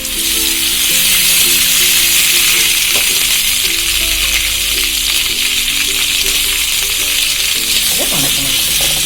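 Small onions, garlic, tomato and curry leaves fry in oil in a pan, a loud steady sizzle running throughout with occasional stirring scrapes and clinks.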